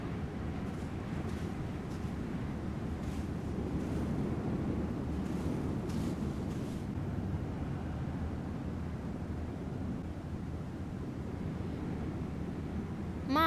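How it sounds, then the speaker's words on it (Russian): Strong wind blowing across a lakeside beach, a steady, loud low roar with gusty surges that continues without a break, and no voices are heard. "Ветер усилился."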